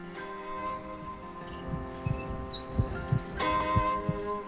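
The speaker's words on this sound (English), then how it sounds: "Oh, don't give me the heartbeat." A heartbeat sound effect in the video game The Path, soft, low thumps that enter partway through and repeat in a steady rhythm beneath a sustained droning ambient tone.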